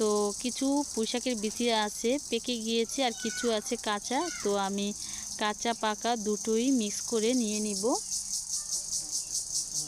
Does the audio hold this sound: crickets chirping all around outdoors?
yes